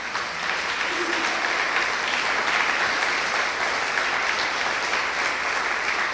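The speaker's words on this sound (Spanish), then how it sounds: "Quisiera darle un aplauso a Dios." A church congregation applauds during a Spanish-language sermon, a dense, steady wash of many hands clapping that holds at an even level for about six seconds.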